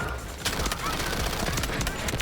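Rapid, dense gunfire from the first-person shooter Delta Force, with continuous automatic bursts and sharp reports filling the whole stretch at close range while a player talks over the shooting.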